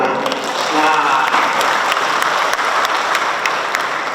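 An audience at a university event breaks into applause, a dense, steady wash of many hands clapping at close range, with a voice briefly audible beneath it at the start.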